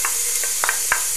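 Onion sizzles in butter in a pan, a steady frying hiss broken by a few soft stirring scrapes.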